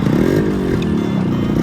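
A 1996 Yamaha RX135 two-stroke motorcycle idles and revs steadily up close, its engine and exhaust giving a continuous buzzing drone that rises slightly and then settles, loud and alone.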